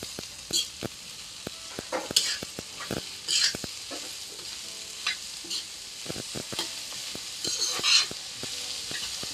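Vegetables stir-frying on a tava, heard as a steady close sizzle broken by repeated scraping and clinking strokes of a spatula against the pan, with no talk.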